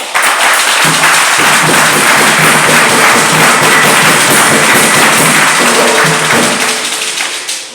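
A church congregation at a sabbath sermon in Tapéoua bursts into loud, sustained applause, a dense roar of many hands clapping close by for several seconds before tapering slightly at the end.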